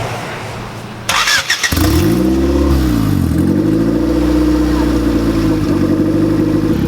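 A boosted Honda Civic EG engine fires up for the first time after a short cranking burst, then settles into a loud, near, wavering idle with the pitch dipping and rising as it revs, while people talk faintly around it.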